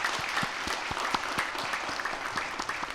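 A church congregation applauding during a Sunday afternoon worship service, dense steady clapping from many hands, moderately distant and continuous throughout.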